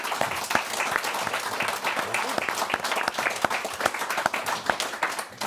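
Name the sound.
audience applause for speakers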